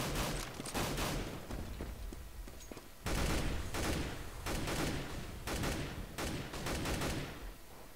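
Dense Counter-Strike gunfire during a NaVi vs Alternate match, with rapid automatic bursts shot through walls coming in loud overlapping volleys and brief gaps between them, and no voices over the shooting.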